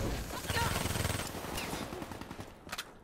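Rapid gunfire from the video game Call of Duty Black Ops III, a dense run of repeated shots that thins toward the end, with a faint game sound above.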